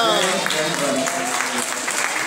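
Audience applause at an International Yoga Day quiz event run by the Ministry of Information, a steady wash of clapping that holds at an even level for the whole stretch, with voices mixed in.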